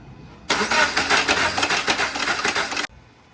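A 2013 Subaru BRZ engine cranking on the starter with the fuel pump fuse pulled, to build oil pressure without firing, giving a loud, steady, rapidly pulsing whir of about two and a half seconds that cuts off abruptly, with no talking.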